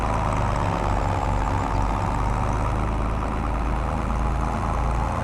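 A Zetor tractor engine running steadily, a loud, even low diesel drone with a faint rhythmic chug, close by and unbroken throughout, with no talk.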